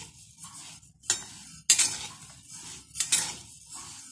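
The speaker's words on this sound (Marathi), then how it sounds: "म्हणून तांदूळ एकसारखे हलवायचे" Dry rice being stirred and roasted in a pan for chakali bhajani flour, with bursts of scraping and rattling grains and clinks of a spatula against metal at an uneven rhythm, close and fairly clear.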